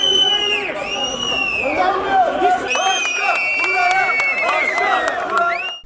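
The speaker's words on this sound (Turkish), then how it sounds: "esnaf hem belediyeyi hem de Şoförler Cemiyeti yönetimini sık sık yuhaladı" A crowd of protesting taxi drivers jeers outside a municipal building, a dense mass of loud, overlapping shouting voices and whistles that swell and persist, with scattered claps.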